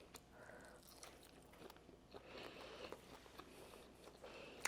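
A close bite into food with a crunchy, crusty outer layer and a moist inside gives soft crackling crunches and chewing, faint and near, with small clicks.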